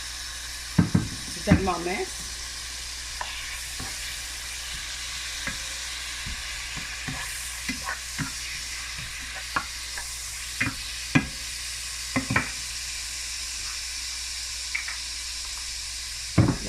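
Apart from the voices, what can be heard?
smoked herring frying in a pan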